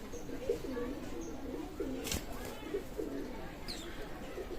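Pakistani teddy pigeons in a breeder's loft coo softly in repeated low phrases, steady and moderately near against a constant background hum.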